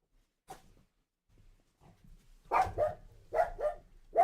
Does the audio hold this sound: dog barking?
yes